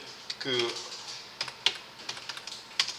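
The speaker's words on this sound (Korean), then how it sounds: "컨트롤 시프트 N키 눌러서" Keys pressed on a computer keyboard while entering a shortcut in graphics software: a few quick, sharp clicks spread unevenly over a few seconds, close and fairly quiet, with a short burst of voice near the start.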